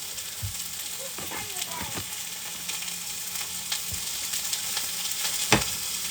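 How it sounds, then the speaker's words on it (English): Pork tenderloin sears in a hot pan with a constant crackling sizzle, punctuated by occasional sharper pops and clicks, with a voice talking faintly now and then. "that's just going to go ahead and sear"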